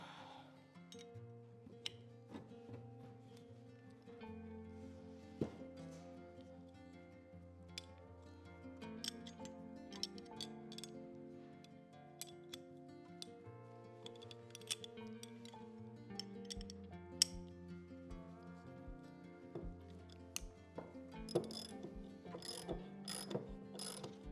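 Ratchet wrench clicking in short bursts of close, sharp ticks, quiet and intermittent with pauses, growing busier toward the end, with no talk.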